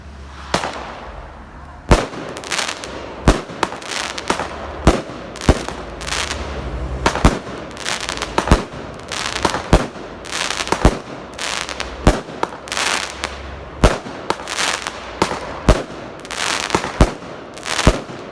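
A Lidl Magic BUM-BAC firework launcher fires a long volley of sharp, loud cracks and bangs in an irregular rapid rhythm, with crackling between shots and brief voices underneath.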